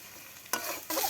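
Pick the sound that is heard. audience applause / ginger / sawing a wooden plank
ginger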